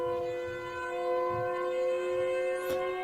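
A steady, droning siren from the Siren Head horror game, holding tones over a low rumble and scattered dull thuds, with a brief sharp rising squeal near the end and no talking.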